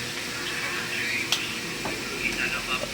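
A utensil stirs food frying in a pan with patis and pepper, a steady sizzle broken by a few sharp scrapes and clinks against the pan, with faint voices nearby.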